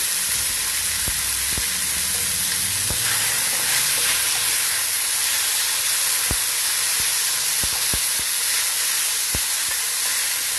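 A chicken stir fry sizzles and steams in a pan, a loud, constant frying hiss with occasional sharp clicks and pops of utensils against the pan, and no talking.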